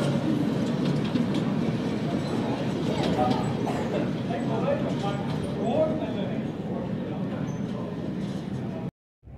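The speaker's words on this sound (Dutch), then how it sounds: "Oké, okay, hier komt zo die trein voorbij." At a model railway show in Rijswijk, a model train runs along its track with a continuous rolling rattle under background voices, ending in a sudden brief silence.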